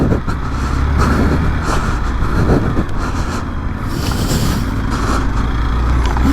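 Motorcycles, an XPulse 200 and a Royal Enfield Interceptor 650, riding on dirt trails near Gurgaon, with steady engine drone and wind rush throughout, loud and continuous.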